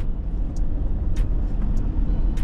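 A Fiat 500 Abarth engine idles while warming up after core plug work, a low steady rumble with a few brief higher hissy bursts over it, close by and without speech.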